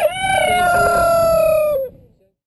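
A rooster at Shelby Forest General Store gives one loud, close crow, a long drawn-out call that holds steady before cutting off abruptly into quiet.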